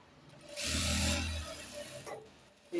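A sewing machine runs a short stitching burst of about a second on a ten-year-old boy's pajama, then falls quiet in a hushed room.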